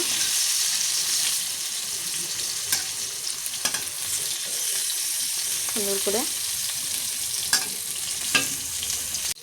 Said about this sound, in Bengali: এখন আমি উল্টে দেবো। দেখো, এক সাইডটা হয়ে গেছে ভাজা, এক সাইডটা হালকা করে ভাজা করে নেব।